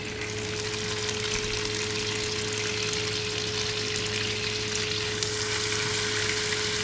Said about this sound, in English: I'm frying these onions